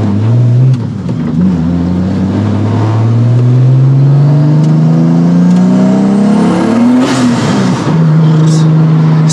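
A tuned car engine revs up in long rising sweeps, loud and close, with turbo boost building and a brief lift near seven seconds before it pulls again.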